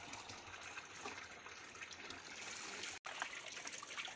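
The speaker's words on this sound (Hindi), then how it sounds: "ये देखो 2 सेकंड नहीं लगेंगे भरने में, नहीं 18 सेकंड लगेंगे एटलीस्ट भरने में, और अभी हमारा पानी भर जाएगा।" Water from a village spring in the mountains pours steadily into a container, a continuous close trickle and gush that fills the whole stretch with only a brief dropout near the end.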